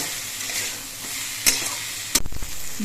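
A home-cooked dish is stirred and mixed in a pan over low sizzling, with a faint background fry punctuated by a couple of sharp utensil clatters and scrapes near the end.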